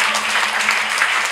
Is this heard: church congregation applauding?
yes